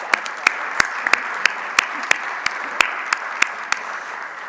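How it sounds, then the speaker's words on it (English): Sparse applause for a panel at a federal energy efficiency funding technical conference: a handful of sharp, distinct hand claps rising over a soft bed of wider clapping in a meeting room, no voices. "All right, let's give our panel a round of applause."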